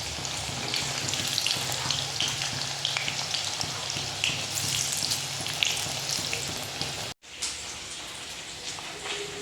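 Chicken pakora fries in hot oil with a dense, steady crackling sizzle, close and fairly loud, broken by a brief cut near the end before the bubbling carries on.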